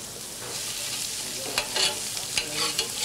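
Finely chopped onions and garlic sizzle steadily in a hot pan, a close, continuous frying hiss with a few brief stirring scrapes toward the end.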